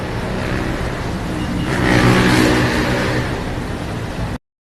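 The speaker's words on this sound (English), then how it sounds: "Millions commute daily through traffic-filled streets" Traffic rolls along a busy Jakarta city street, with a close car engine accelerating and swelling past over a steady roadway drone before the sound cuts off abruptly.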